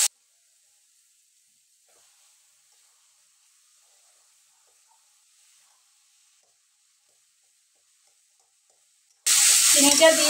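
Shola taro greens cooked with a hilsa fish head fry in a pan while sugar is stirred in. After a long near-silence, a loud, close sizzle with stirring scrapes bursts in at the very end.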